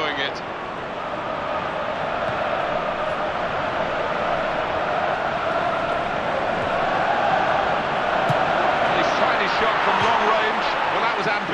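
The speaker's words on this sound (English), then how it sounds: "And the crowd really enjoying it" A steady stadium crowd roar from a FIFA 14 match between Borussia Dortmund and PSG, a continuous broad wash of cheering under a commentator's voice throughout.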